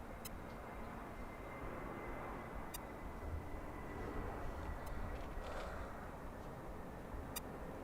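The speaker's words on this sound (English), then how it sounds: "Our next plane coming in, I don't know where it's coming in from, but it is a American Airlines A321. A321 Neo." An American Airlines Airbus A321neo landing at LAX, a steady broadband jet roar at moderate distance, holding a constant rumble through the whole stretch with a slight swell midway and no talk.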